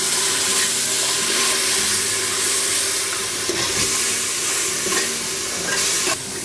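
Water poured into a pan of frying spices for mixed vegetables brings a loud, steady hiss and sizzle with bubbling and stirring scrapes, running continuously at close range with no talk.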